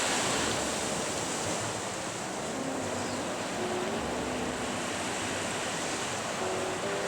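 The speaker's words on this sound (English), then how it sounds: "the breaking waves in front of us told the story as well" Ocean waves breaking on a coral reef off a beach on Molokai, Hawaii, make a steady, broad roar of surf that holds constant throughout with no voices.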